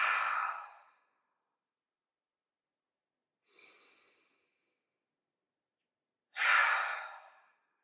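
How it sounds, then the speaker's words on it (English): Slow, deep exhales through the mouth during gentle breathwork: two long, audible breaths out separated by a softer, shorter one, with near silence between them. "Maybe exhale through the mouth."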